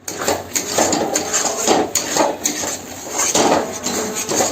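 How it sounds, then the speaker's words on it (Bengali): A spatula scrapes and knocks rhythmically against a pan as semolina (suji) cooks with water, producing loud, repeated metallic scraping strokes about every half second, close up and without talk. "এবার ভালো করে কিন্তু এই সুজিটা রান্না করে নিই।"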